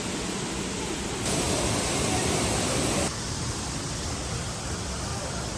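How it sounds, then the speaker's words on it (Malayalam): Thoomanam waterfall in Wadakanchery, Thrissur roars close by in a dense, steady rush of falling water, and the noise swells slightly for a couple of seconds in the middle. "ഇതാണ് നമ്മുടെ തൂമാനം വാട്ടർഫാൾസ്"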